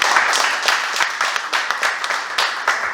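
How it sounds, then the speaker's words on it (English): Applause from an audience at a speakers-and-guests event: dense, steady clapping that stays fairly close and loud throughout, with small surges. "Let's give you a round of applause."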